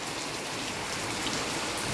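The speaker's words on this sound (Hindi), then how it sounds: "सो गाइस यहाँ बहुत तेज बारिश आ रखी है।" Heavy rain pours down steadily, a dense, loud, even hiss of drops hitting surfaces close by, continuous with no pauses and no voices.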